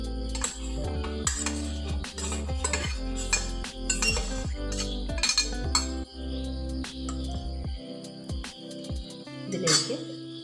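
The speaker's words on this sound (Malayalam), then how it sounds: "മിക്സിയുടെ ജാർ എടുത്തേച്ച് അതിലേക്ക് ഇൻഗ്രീഡിയൻസ് എല്ലാം കൂടെ ഇട്ട് കൊടുക്കാം." Passion fruit chutney ingredients, including coconut, are dropped into a mixer jar, producing many bright clinks and knocks of items hitting the jar against a steady low hum.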